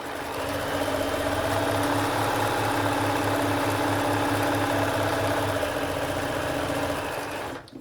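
A sewing machine stitches a marionette robe in a steady, fast mechanical rhythm, running close and loud for about six seconds before stopping.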